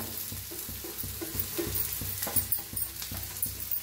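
Chilli, peanuts and browned onion are roasted together in a pan for thecha, a soft sizzle broken by repeated light taps and scrapes of the stirring spoon at an irregular rhythm, close and fairly quiet.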